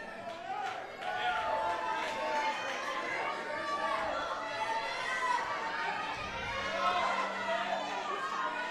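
At a high school powerlifting nationals meet, a crowd shouts and cheers encouragement for a lifter: a sustained, dense mass of overlapping voices at moderate distance, swelling briefly toward the end.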